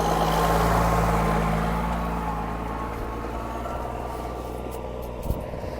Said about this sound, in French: Ah, il y a un tracteur qui arrive.